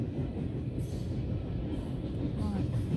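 CN freight train 305, carrying lumber and hauled with double CREX locomotives, rolls past at Belleville with a steady low rumble of rail cars, close and continuous for the whole stretch, with faint voices underneath.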